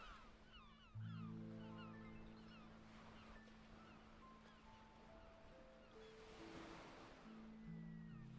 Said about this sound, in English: So this sound helps me fall asleep, I've discovered over the last couple of months. Waves.